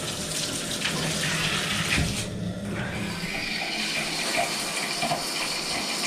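Water sprays hard and steadily from a rain-style shower head after a water pressure fix, a dense, continuous hiss close by with no talking.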